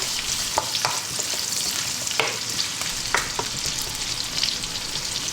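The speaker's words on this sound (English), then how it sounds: "Then we're going to add onion. White onion cubed." Cubed white onion frying in a pan, with a steady broadband sizzle and a few sharp clicks of stirring scattered throughout, close and continuous with no voices.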